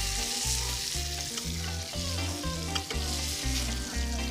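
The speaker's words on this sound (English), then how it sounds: "Give those a little stir around for me" Tinned tomatoes are stirred in a hot pan, giving a constant sizzle layered over a rhythmic series of low scraping strokes, with a steady tonal hum running underneath.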